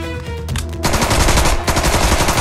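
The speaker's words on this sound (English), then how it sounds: "Just get Jesus to shoot a bunch of kids" Rapid automatic gunfire in South Park: The Stick of Truth, a dense burst of loud repeated shots that swells after a brief lull and keeps rattling steadily to the end, with no talking.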